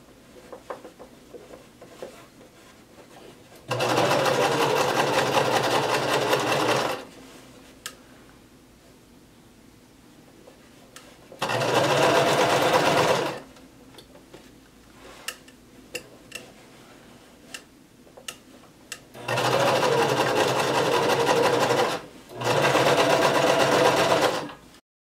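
A sewing machine stitches a shirt, its fast rattling needle whirring loudly in four separate bursts of a few seconds each, with quiet pauses in between.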